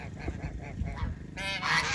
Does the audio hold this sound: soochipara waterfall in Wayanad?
no